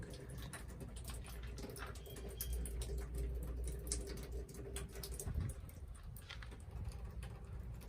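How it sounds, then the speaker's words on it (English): Water drips and patters off a Peragon truck bed cover after the hose is shut off, a steady scatter of small irregular drops close by, with no talking. "so it's just still leaking from what was on top"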